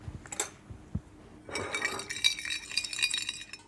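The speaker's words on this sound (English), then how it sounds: "and then we'll give it a stir." A utensil stirs a sriracha and lime sauce with lime zest and juice in a bowl, giving a few light clinks at first, then a busier run of scraping and clinking against the bowl.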